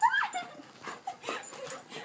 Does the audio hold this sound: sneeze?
no